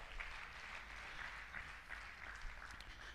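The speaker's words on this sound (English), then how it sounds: "Please, a round of applause for her." Steady, faint applause from an audience welcoming a guest speaker, a quiet continuous wash of clapping with no voices on top, at a healing event.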